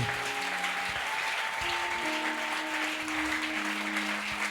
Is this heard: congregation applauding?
yes